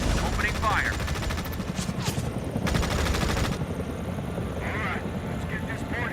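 Gunfire from units in the video game Tom Clancy's EndWar, bursts of shots and machine-gun rattle over a steady rumble of vehicles or aircraft, with radio-style voices talking throughout.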